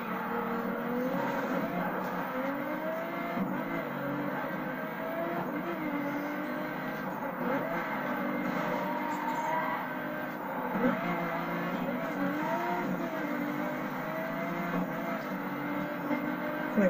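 Car engine in the racing video game The Crew, a steady droning hum with shifting pitch as the car drives along a track, continuous and moderately loud throughout with no talk.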